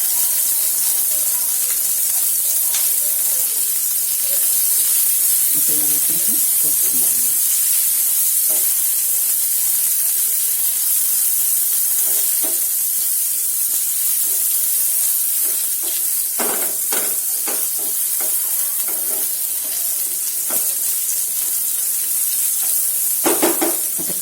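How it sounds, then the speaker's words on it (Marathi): Onions and garlic frying in oil for green brinjal bharit make a loud, continuous hiss and sizzle throughout, with occasional soft stirring scrapes and no talking. "कांदा पण आपण परतून घेऊ म्हणजे हा छान क्रिस्पी लागतो"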